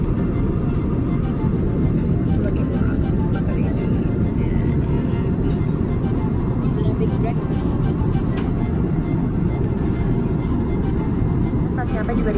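Steady airplane cabin roar as a business class flight takes off, a dense low rumble filling the whole stretch at constant loudness, with voices murmuring faintly beneath it.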